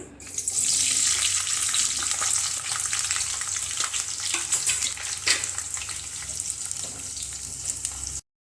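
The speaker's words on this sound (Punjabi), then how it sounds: "ਇੱਥੇ ਪਿਆਜ਼ ਤੇ ਸ਼ਿਮਲਾ ਮਿਰਚ ਮੈਂ ਰਫਲੀ ਜੇ ਕੱਟ ਲਏ ਸੀ ਤੇ ਇਹ ਵੀ ਆਪਾਂ ਫਰਾਈ ਕਰ ਲਵਾਂਗੇ" Roughly cut onions and capsicum fry in oil in a kadai for a mixed vegetable dish, a loud, continuous close sizzle with stirring scrapes throughout.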